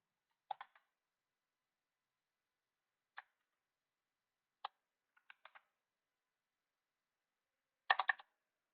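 Sparse clicks of someone typing on a computer keyboard, in a few short isolated clusters of keystrokes spread over several quiet seconds, faint and close.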